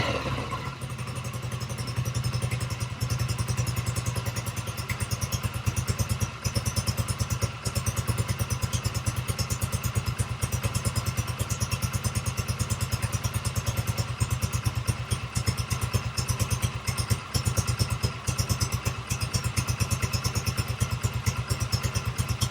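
A motorcycle engine starts in a garage and settles into a steady, loud, close idle with a rapid thumping rhythm. It runs alone with no voices for over twenty seconds.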